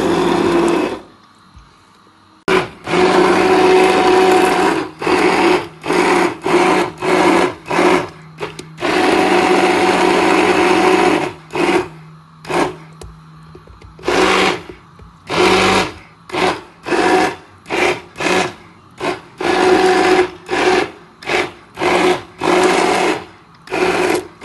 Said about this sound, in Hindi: बीटर के साथ बीट किया जा रहा है जी, चिकन डाल दिया है उसके बाद बीट किया जा रहा है।